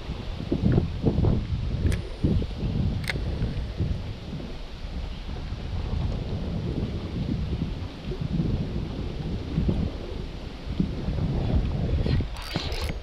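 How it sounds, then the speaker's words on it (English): Steady wind buffets the microphone on a lake during a boat-fishing tournament, a constant low rumble with gusty swells, occasional thumps and faint knocks throughout, no talk. "Come on, wind, chill out."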